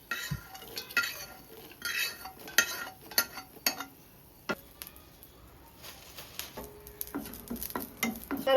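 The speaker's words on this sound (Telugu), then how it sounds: "కరివేపాకు వేగిందండి" Curry leaves fry in a pan with a light crackling sizzle, and a spoon stirs in repeated scrapes and clinks against the metal, close and moderately quiet, with irregular bursts over the steady frying.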